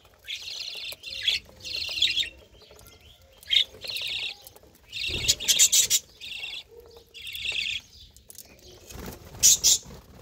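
Many small birds chirp in rapid, overlapping bursts in a colony aviary, repeated again and again, with occasional squawks and fluttering.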